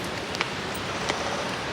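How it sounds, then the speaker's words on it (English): Rain falls in Fort Canning park in Singapore as a steady, even hiss with occasional sharper drops, and no voices are heard. "it's still raining now"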